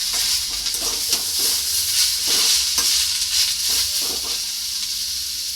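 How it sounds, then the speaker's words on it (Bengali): Ingredients for soybean noodles fry lightly in a pan, giving a dense, loud hiss of sizzling oil with soft stirring scrapes every second or so. The sound is close and steady, with no talking. "এটা দিয়েও হালকা ভাজা ভাজা করা হবে"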